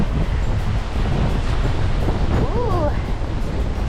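Strong wind roars across the microphone on an urban mountain bike trail in Manchester, a constant loud rumbling buffet with gusts throughout and no speech.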